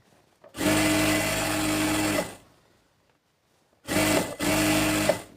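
A sewing machine stitches a salwar in two loud, close bursts, a steady two-second run, then a pause, then a shorter run broken by a brief stop, with no talking.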